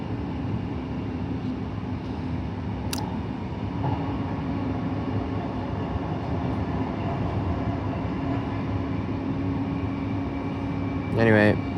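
A train on Brisbane's Rosewood line rumbles past in a steady, loud drone that holds for the whole stretch, with a short sharp hiss near the start and a rising electronic whine right at the end.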